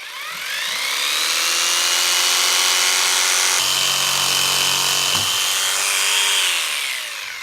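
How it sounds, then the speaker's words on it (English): Power tool cutting threaded metal studs for a wall-mounted pet door install, a steady loud whine running several seconds with a brief pitch drop partway through, no voices. "Now we need to cut the 4 threaded studs so that they are 3/4 of an inch longer than the"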